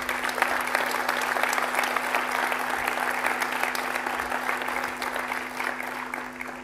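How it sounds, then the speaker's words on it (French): An audience at a mayor's New Year's greetings ceremony applauds city and agglomeration employees with sustained, even clapping from a large crowd, accompanied by a faint steady electrical hum. "je vous demanderai de bien vouloir applaudir nos agents de la ville et de l'agglo"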